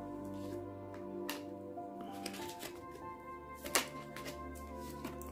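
Tarot cards shuffled by hand in a quiet room, a steady papery riffle and slide with a few sharper snaps, close and soft, with a faint tonal hum beneath and no talking.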